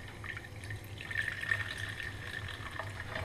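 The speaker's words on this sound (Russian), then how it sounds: "Сейчас будем заливать водичкой" Water poured over roasted, ground acorns to make acorn coffee; a soft, steady liquid trickle sounds close by for about three seconds with no talking.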